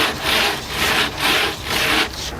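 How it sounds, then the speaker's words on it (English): Abrasive sanding on a fiberglass tank sump channel and top hat during an OPW ElectroTite sump installation, heard as four loud, rhythmic back-and-forth rubbing strokes with short pauses between, and no voices. "Now that we've finished sanding both the channel and the top hat"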